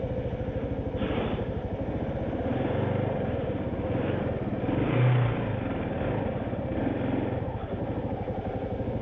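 A 2022 Kawasaki KLR650 motorcycle rides off-road near a mud hole, its engine droning steadily and loud throughout with a brief swell of revs midway, no voices over it.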